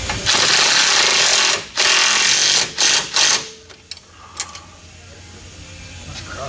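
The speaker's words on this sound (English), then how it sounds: "Drill those holes a little bit oversized." A power drill bores oversized holes in a car part during a Viking coilover upgrade on a green stick-shift Chevrolet Nova, with loud sustained grinding bursts separated by brief pauses, then quieter clicks and shop noise.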